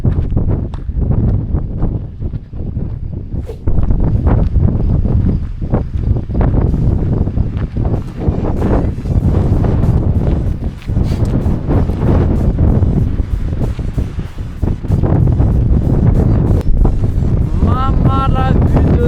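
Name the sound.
strong wind on a mountain pass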